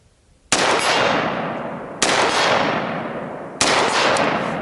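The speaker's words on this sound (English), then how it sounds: "Every time this gun unlocks, the blast that comes out of here is mind-boggling" Gunfire at a shooting range: three loud, sharp blasts roughly a second and a half apart, each followed by a long echoing decay that fills the gap before the next shot.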